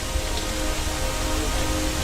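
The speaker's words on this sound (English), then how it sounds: "Large sections of the neighborhood are soaked by this peculiar shower." Steady rain-like patter of liquid from a train disaster falling from a clear sky onto a neighborhood, a dense continuous hiss without pauses.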